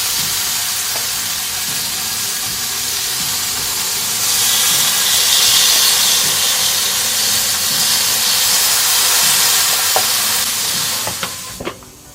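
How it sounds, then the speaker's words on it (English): Marinated flanken-cut beef ribs sizzle on a hot Akorn kamado grill over cherry wood, a loud broad hiss that swells as the meat goes on, followed by a few sharp clicks near the end. "My grill is now nice and hot, so let's get these beef ribs on."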